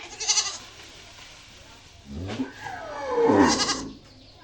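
A cow lows twice near a flooded home by the Teesta river in Dahagram, a short call followed by a longer, louder moo, with people talking around it.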